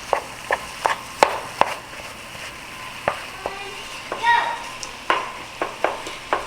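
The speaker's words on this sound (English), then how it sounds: "Let's let this beef start cooking with all these amazing flavors" Ground beef with peppers and onions for Jamaican beef patty filling sizzles steadily in a hot pan, a close, constant hiss broken by sharp irregular clicks and scrapes of a utensil stirring the meat.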